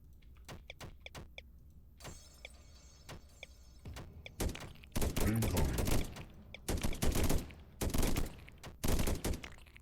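Turrets in the swarm-survival strategy game Deep Among the Swarm fire rapid sharp shots, sparse at first and then building into dense, loud bursts of gunfire.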